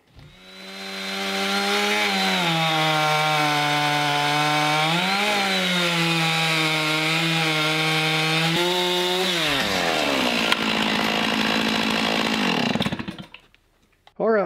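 A chainsaw runs steadily at high revs through a rotted oak log, its engine pitch dipping as it bites, then dropping off and cutting out near the end.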